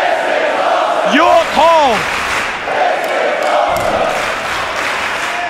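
Wrestling crowd at York Hall roaring and cheering loudly throughout, with a commentator talking over the din and a few shouted yells rising above the noise.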